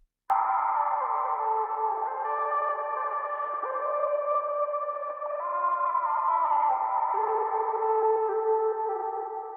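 A bright, high-pitched processed vocal-like sample chop, pitched up an octave and EQ'd, sustains and shifts between notes, steady and loud, with an electronic, effected sheen and no talking.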